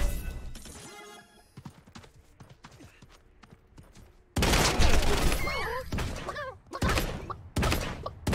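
Rifle fire from an heirloom rifle in the battle royale game Realm Royale, loud rapid bursts with several sharp shots crowding the second half, after quieter game sounds and clicks.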